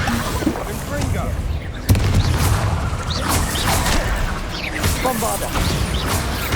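Confringo blasting spell explosions in Hogwarts Legacy, a sharp booming blast near two seconds followed by continuous loud rumbling crashes and clatter, under a voice speaking.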